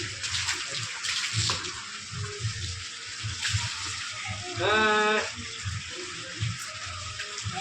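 A child being bathed with running water from a tap, splashing and pouring in short bursts with a brief gushing rush midway, fairly quiet and close.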